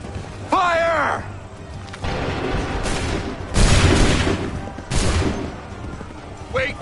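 Musket volleys ring out in an Assassin's Creed game, several heavy bursts of massed gunfire spaced a second or two apart, loud and booming, with voices shouting orders in between.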